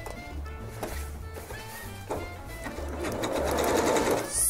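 A sewing machine stitches a patch onto fabric to mend a hole, its motor running steadily and close up for several seconds, growing slightly louder toward the end.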